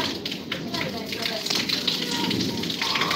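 Steady rain pours down as a dense, even hiss and patter on surfaces, close and continuous throughout, with a voice faintly present beneath it.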